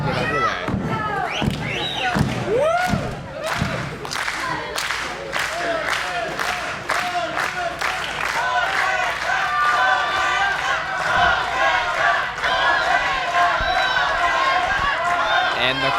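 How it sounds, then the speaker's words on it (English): A wrestling crowd at a live match cheers and claps, a dense roar of many voices with rhythmic clapping, while a commentator talks over it. "And the crowd seems to be on Tormenta's side."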